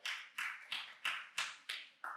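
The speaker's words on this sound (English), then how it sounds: "A nice clap really keeps me coming." A small audience gives a little clap: about seven sharp, evenly spaced claps in quick succession, close and crisp with nothing else around them.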